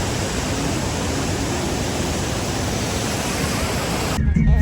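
A mountain waterfall roars as a dense, steady rush of water, loud and unbroken, before it cuts off abruptly near the end.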